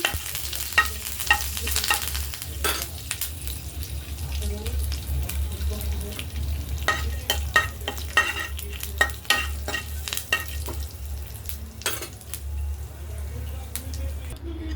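Cumin, chana dal and curry leaves sizzle steadily in hot oil for a peanut chutney tempering, a continuous close frying hiss with scattered sharp crackles and spoon clinks throughout.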